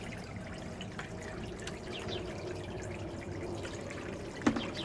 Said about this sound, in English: So let's fill this thing up here with water.